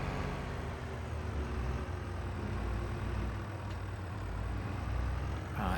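Tractor engine in Farming Simulator 22 labouring steadily up a gentle slope, a continuous low droning rumble with a faint high whine, loud and even throughout with no talking.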